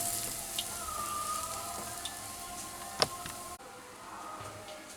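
Carrots fry in a covered pan for a sweet carrot dish, giving a faint, steady sizzle and hiss throughout, with a single sharp tick partway through.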